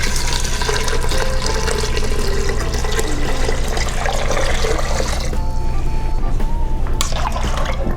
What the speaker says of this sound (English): Now add 10 cups of water.